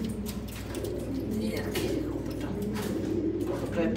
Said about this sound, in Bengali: একটা সুন্দর একটা কবুতর।